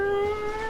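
A person imitates a cat with a short, drawn-out meow-like wail, a sustained tonal voice heard alone and fairly close.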